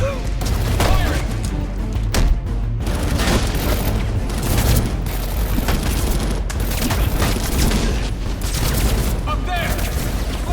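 Heavy gunfire and booming impacts in Batman: Arkham Origins fill the scene continuously and loudly, with shouted voices breaking in now and then over the shooting.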